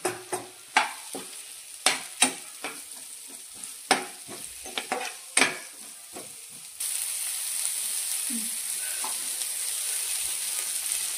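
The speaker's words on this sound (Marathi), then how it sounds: "लसूण टाकली, ही बघा थोडी लसूण परतून घेतल्यावर टोमॅटो टाकायची।" Garlic sautéing in a pan, sharp spoon scrapes and taps striking the pan in an irregular series over a soft sizzle, followed by a steady, louder hiss of frying.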